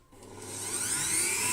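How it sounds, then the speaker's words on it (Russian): An electric mixer starts up to whip egg whites for marshmallow, its whirring motor swelling over the first second and then settling into a steady, close, high whine. "Значит, нас с вами включаем миксер."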